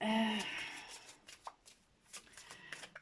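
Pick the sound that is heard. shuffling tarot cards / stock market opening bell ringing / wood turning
shuffling tarot cards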